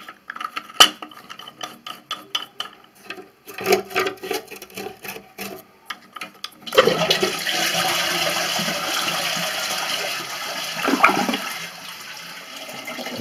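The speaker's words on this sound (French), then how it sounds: "Vous libérez la chasse d'eau." Toilet cistern flushed after the water supply is shut off, beginning with clicks and small handling knocks, then a sudden loud rushing drain that runs steadily and tapers off, with no talking.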